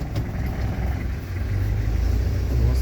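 A code 10 truck engine accelerates gently from a standstill during a driving lesson, a steady loud low rumble that builds slightly in strength, heard from inside the cab with no talking.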